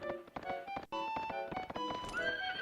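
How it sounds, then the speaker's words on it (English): A horse whinnies in the video game Suikoden III, its neighing mixed with quick clip-clopping hoofbeats as it is ridden toward a city, loud and continuous with a brief pause partway through. "we're going to ride our horse right into the city."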